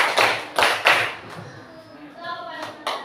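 Several sharp hand claps land in a loose rhythm, close and loud, followed by a quieter stretch with a faint tonal sound.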